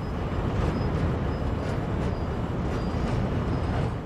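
Train running in the Train Sim World video game, a steady broadband rumble of rolling stock with faint periodic high tones, continuous and fairly loud throughout, no talking.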